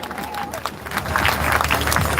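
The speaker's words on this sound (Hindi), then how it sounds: "एक बार जोरदार तालियां मारो सभी" An audience claps at a live bhajan satsang gathering in Gohana, producing a dense, sustained wash of applause with voices mixed in.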